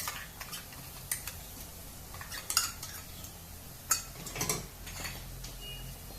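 Light metallic clinks and scrapes of a utensil stirring ginger garlic paste and onions frying in a pan, scattered irregular taps over a low steady background, fairly quiet.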